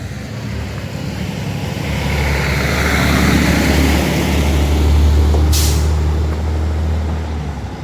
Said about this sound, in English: there's a big truck coming